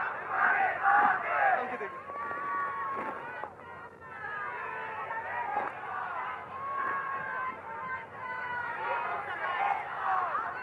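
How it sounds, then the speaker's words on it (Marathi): A large rally crowd of Mumbai residents gathered at Shivaji Park, a continuous dense hubbub of many voices with shouts and cheers rising and falling throughout. "आजची ही तुफान गर्दी"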